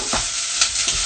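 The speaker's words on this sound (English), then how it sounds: "I've got the onions on cooking. Then I'm going to add the beef." Onions and beef frying for an Australian meat pie, a loud steady sizzle broken by a few scraping stirs of the spoon in the pan.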